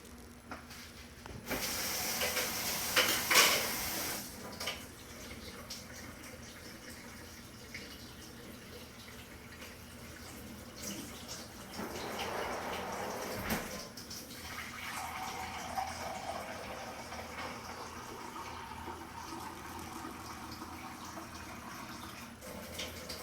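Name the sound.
warm water being poured for pizza dough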